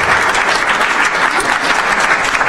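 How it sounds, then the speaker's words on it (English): Steady, dense applause from an audience at a book launch and discussion, loud and close with no pauses. "let's clap for that"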